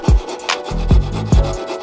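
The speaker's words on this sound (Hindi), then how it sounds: "हम 4 कट लगाएंगे आरी से" A hand saw rasping into a piece of wood in a homemade hot air soldering iron build, with a few short scraping strokes in an uneven rhythm, close and loud with no talk.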